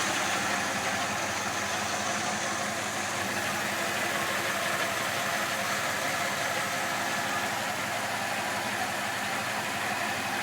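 The original 70,000-mile engine of a 1981 Ford F150 Custom Explorer idles after a cold start, a steady close rumble with an even mechanical ticking and no letup.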